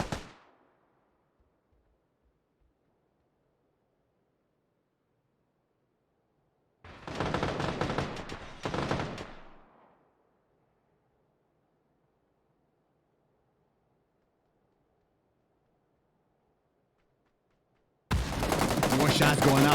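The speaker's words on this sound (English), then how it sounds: "More shots going out." Gunfire in a PUBG console league finals match: two dense bursts of loud shots around the middle, then another heavy volley at the end, separated by near silence.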